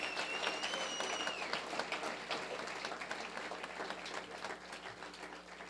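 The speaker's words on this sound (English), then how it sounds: "why don't we just give a hand of applause to all the announcers" Audience applause at the 2014 Cali Fight Awards ceremony, given for the event's announcers, sounds as a steady wash of clapping from a crowd, fairly distant and gradually thinning toward the end, with no talk over it.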